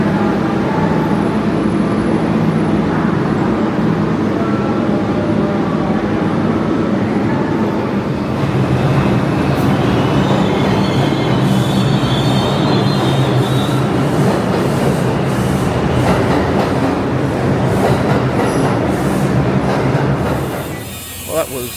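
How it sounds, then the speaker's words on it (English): A New York subway train ride, with a continuous loud rumble and rattling clatter of the carriage on the rails, close and steady for a long stretch before easing off at the end, with faint voices in the car. "We've covered about 70 blocks, about a 20-minute train ride, so relatively painless."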